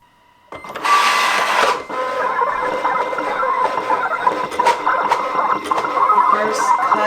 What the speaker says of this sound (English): Look how fast it's cutting.